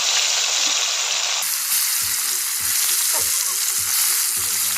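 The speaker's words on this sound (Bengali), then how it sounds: "গরম তেলে এবার মাছগুলিকে একটা একটা করে ছেড়ে দিলাম সুন্দরভাবে" Fish sliding into hot oil, giving a loud, dense, continuous sizzle and crackle close up, with a few soft knocks underneath and no voices.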